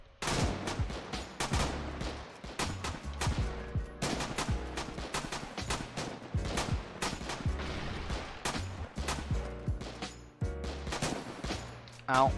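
Dense gunfire and machine gun bursts from infantry combat in the war game Foxhole, loud rapid volleys continuing throughout with brief pauses, voices faintly mixed in.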